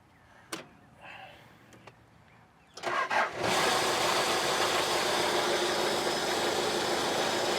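A heavy machine's engine cranks with a few clunks and catches, then settles into a loud, steady running roar that fills the rest of the clip.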